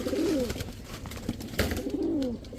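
Pigeons, a black-necked male and female, give repeated soft throaty coos in two rolling phrases, close by and fairly quiet, with no talking over them.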